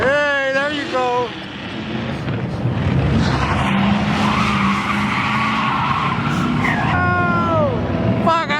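A V8-swapped Mazda RX-7 at a drift day screeches its tires in a long, loud, rough skid, with the engine revving up and down before and after it and voices talking nearby.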